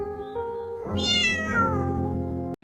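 A cat meows in a long, drawn-out cry that rises and wavers, close and fairly loud, with no one talking.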